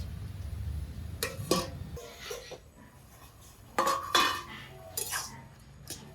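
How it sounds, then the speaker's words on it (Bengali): A metal spatula scrapes and knocks against a pan while stirring wilting greens cooked with green chilli, with several distinct clinks and scrapes spaced irregularly over a quiet background. "শাকটা একদম খুন্তি দিয়ে ছাড়িয়ে দিচ্ছি"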